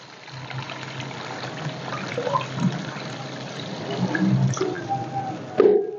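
About 1.5 litres of water is poured into a cooking pot for chicken yakhni, giving a close, uneven splashing and trickling that stops abruptly at the end.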